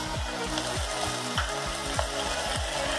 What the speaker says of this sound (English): Now I'm going to add all these veggies. First carrot, beans, potatoes